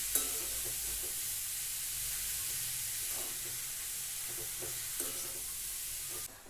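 Grated carrot halwa frying in ghee is stirred steadily in a pan, giving a continuous close sizzle with soft spoon scrapes and light knocks, no voices.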